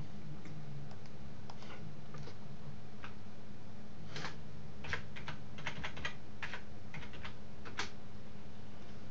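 Steady typing on a computer keyboard, bursts of light clicking keystrokes with short pauses, close and clear over a faint background hum.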